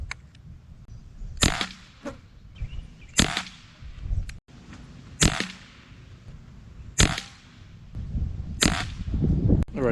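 Beeman Commodore air pistol firing JTS 18.13 grain pellets, five sharp cracks spaced roughly two seconds apart over a quiet room background with faint handling noise.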